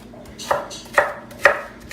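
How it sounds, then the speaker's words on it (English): Four sharp, evenly spaced knife strikes on a cutting board, spaced about half a second apart, while ingredients are roughly chopped for an Italian Bolognese sauce, close and clear with no talking. "cut it up, chop it up"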